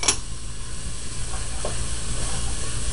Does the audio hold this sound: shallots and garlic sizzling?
yes